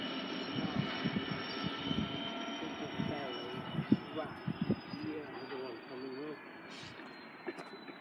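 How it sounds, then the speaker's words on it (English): A GBRF class 66 freight locomotive, 66729, heading back to Ely, rumbles over a temporary level crossing with a steady low diesel drone and a thin whine, while a person talks over it. "Now going back is the GBRF freight that is going back to Ely"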